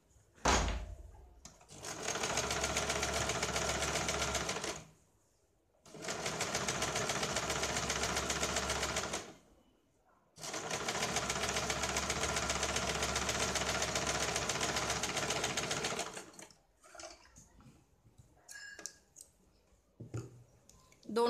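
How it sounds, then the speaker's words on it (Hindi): A sewing machine runs rough basting stitches on a single katori blouse, in three long steady bursts of even mechanical whirring separated by short pauses, followed by a few faint clicks. "इसके ऊपर हमें ये रफ सिलाई लगानी है"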